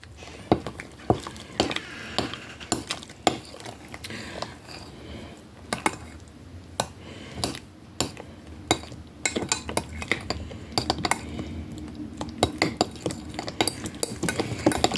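Spoon stirring food in a pot after hot water is added, with scattered clinks and scrapes against the pot at close range, irregular and fairly quiet.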